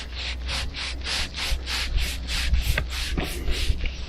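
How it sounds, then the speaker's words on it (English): An oily rag wiped over rusty hydraulic rams on a vintage David Brown 990 tractor, about a dozen quick rhythmic rubbing strokes with faint knocks beneath, up close and steady. "Just get some hydraulic oil on a rag and wipe those rams."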